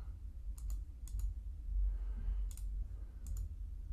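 Computer mouse clicks during modeling work in Blender, arriving as crisp close pairs of double clicks, four sets spaced across a low room hum.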